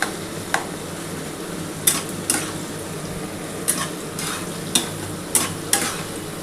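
Onion and tomato frying in a pan for chicken dak bungalow, a constant near sizzle punctuated by several sharp spatula scrapes and taps against the pan, with no speech.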